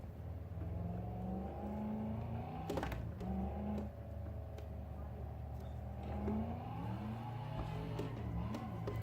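A Corvette's engine in a racing video game drones and revs up and down with shifting pitch, one sharp burst in the middle, steady and moderately loud throughout with no talk.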